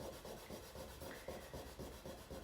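Finishing pad rubbing varnish onto a transfer on a painted glass table top, giving soft, rhythmic back-and-forth scrubbing strokes, quiet and close, about ten passes with no talk.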